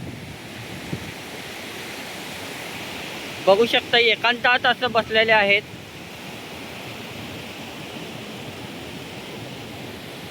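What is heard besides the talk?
ocean waves on Tondavali beach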